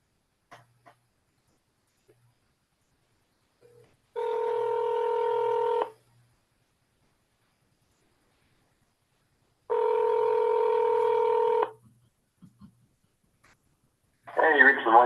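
A phone call being placed over a video meeting gives two long, steady electronic tone bursts separated by several seconds of near silence, followed by a brief burst of sound at the end.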